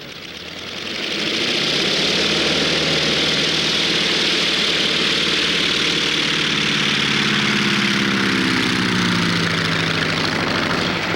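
The 500 horsepower radial engine of a Gee Bee R-2 racing airplane starts up and settles into a loud, steady, throbbing roar that holds close and continuous for several seconds.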